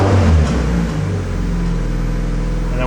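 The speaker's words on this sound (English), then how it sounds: "so you'll see it'll rev right past 3 grand" Turbocharged D16 engine in a Honda Civic EK held on the pit limiter, a loud steady buzzing drone that dips briefly after a rise, then holds an even pitch.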